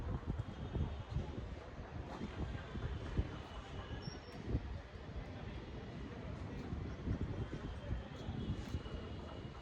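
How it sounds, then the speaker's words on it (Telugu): Strong wind blows over a house rooftop where laundry hangs drying, making a continuous low, rumbling buffet of gusts close to the microphone, fairly quiet overall and with no voices. "అంత బాగొస్తుంది గాలి."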